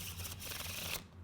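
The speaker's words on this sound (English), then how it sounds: "the cards are going to shuffle in the opposite direction" Playing cards riffling together in a faro shuffle, a soft close-up whirr of interlacing edges that runs for about a second, then cuts off into quiet.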